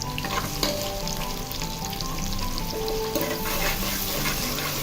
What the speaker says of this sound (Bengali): পেঁয়াজটা দিয়ে তাহলে সেটা খুব ভালোভাবে নেড়ে চেড়ে নিয়েছি